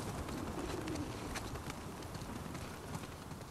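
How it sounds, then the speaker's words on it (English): Birds in the video game The Last of Us Part II flutter and coo as a soft, busy rustle of wings and calls over a steady outdoor ambience, with no talking. "Ah, damn birds."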